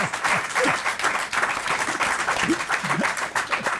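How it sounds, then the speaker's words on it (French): Studio audience applause on a French game show, a steady dense wash of clapping filling the whole stretch at close, even loudness with a few faint voices underneath. "En tout cas, on peut l'applaudir."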